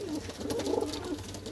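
Punjabi pigeons coo softly close by, a low throaty burbling murmur over faint background noise.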